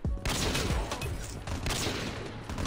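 Dense, sustained gunfire from the mobile shooter COD Mobile, with a steady wash of rapid shots and blasts filling the whole stretch at close, loud range, with no talking.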